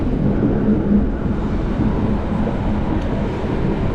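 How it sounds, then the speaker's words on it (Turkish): Steady low rumble of a moving train in Montenegro heard from inside, a constant rolling drone with faint rattles and no voices. "Şimdi ise trene bindik."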